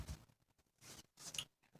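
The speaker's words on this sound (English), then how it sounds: "Shuffle these some more." Tarot cards shuffled by hand, producing quiet close bursts of riffling and sliding with short gaps between them and no talk.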